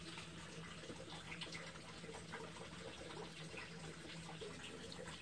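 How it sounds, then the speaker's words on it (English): Water flows steadily into a U siphon in an aquaponics setup, a faint, continuous splashing trickle with soft bubbling, even in level and heard alone without talk. "And if I turn up the water flow,"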